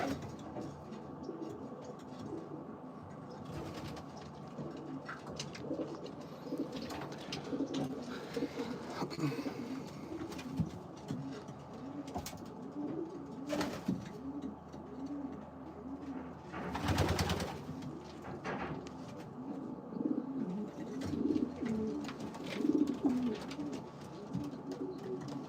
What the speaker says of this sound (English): these are just some show pigeons that I'll be taking that are waiting to breed